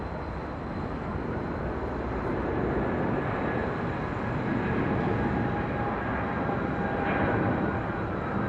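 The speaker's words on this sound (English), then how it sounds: "Dreamliner coming in from Philadelphia, Flight 566, looking like a north side arrival" A Boeing Dreamliner comes in to land at LAX, heard from a hotel rooftop as a steady, moderately loud jet roar that swells slightly over the span.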